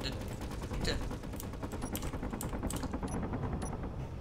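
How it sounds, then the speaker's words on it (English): Gun turrets in Space Engineers fire a steady, dense stream of rapid shots at a station base, with sharp bright cracks scattered on top of a continuous low rumble. Faint voices talk underneath. "it's shooting at the actual base"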